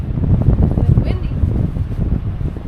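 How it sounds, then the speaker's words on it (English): Steady wind rumbles and buffets against the microphone outdoors, a loud, continuous low roar throughout. "It's windy."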